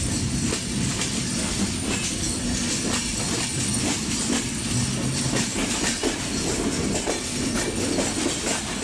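Intercity Madhumati Express running on rails between Ishwardi and Poradah Junction, a steady loud rumble with rhythmic clickety-clack of wheels over rail joints and faint metallic squeal, heard from aboard the moving train.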